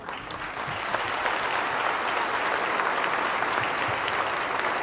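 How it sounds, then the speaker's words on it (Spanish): Loud, sustained applause from an audience after a talk at an energy expo, a dense wash of clapping that holds steady throughout. "Démosle un fuerte aplauso"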